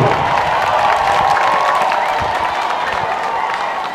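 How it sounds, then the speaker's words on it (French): Crowd at a Bamileke royal funeral and succession ceremony in Bapi gives a steady round of applause mixed with ululating youyou cries, loud and continuous throughout. "Je vous prierai une fois de plus de lui produire une salve d'applaudissements avec les youyou"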